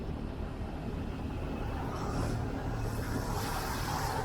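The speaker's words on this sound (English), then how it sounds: "Oh, hear a truck coming." A truck approaching on a road in Indonesia, heard from a motorbike rider's position as a steady, broad rumble that builds slightly louder toward the end over constant road and wind noise.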